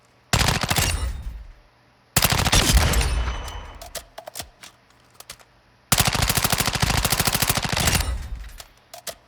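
An M4 rifle with a custom gunsmith build fires in a shooting video game: three long, loud bursts of rapid automatic fire separated by short pauses, with sharp echoing tails.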